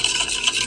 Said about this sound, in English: Mix the wet and dry together.